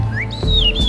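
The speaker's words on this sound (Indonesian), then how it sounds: "Mainan selanjutnya dari bambu yaitu seruling bambu atau suling bambu yang merupakan alat musik tradisional" A traditional Indonesian bamboo flute, a suling, gives a short, bright, breathy whistled phrase of two or three sliding notes, played close and alone.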